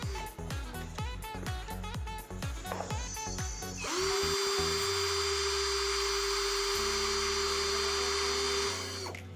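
An 18 volt cordless impact drill, a Dewalt-style Mdo model, running at speed setting 1: a run of rapid ratcheting clicks, then a steady, close whining motor hum that holds for several seconds and shifts slightly in tone.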